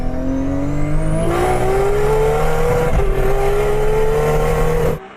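A 280-horsepower sports car with an RB26 engine and all-wheel drive, loud and close, revving with rising engine pitch through several gear shifts before cutting off abruptly.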